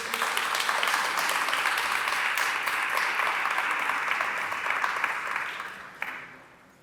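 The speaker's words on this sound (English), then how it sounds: "Can we get another round of applause for all of our speakers?" Audience applause at a Child Abuse Prevention Month kickoff event, a broad sustained clapping from many people that holds steady for several seconds, then thins and fades out near the end.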